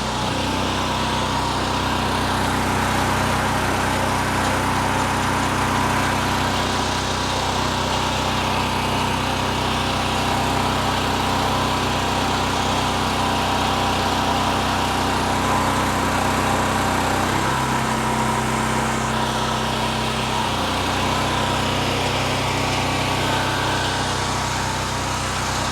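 A dumpster trailer's hydraulic hoist runs on a small engine, a loud steady drone with a pump whine that shifts in pitch partway through as the load is raised and lowered, with no talk.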